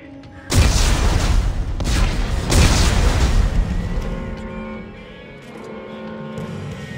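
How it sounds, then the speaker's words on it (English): Explosives detonate in the video game Dead Space 3: a sudden loud boom followed by a long rumbling roar that swells once more, then fades into a lower hum. "Computer, arm explosives. And detonate."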